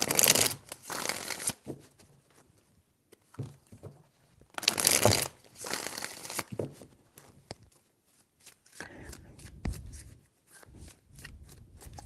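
Tarot cards are shuffled in several bursts of crisp riffling and soft shuffling, loud and close, separated by brief quiet gaps, with no talking over them.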